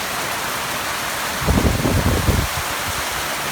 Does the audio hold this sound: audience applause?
no